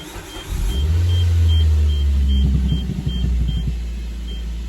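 A Suzuki SX4 engine with a failed AC compressor drive cranks and catches, then settles into a loud, steady idle with a rumbling low drone close by.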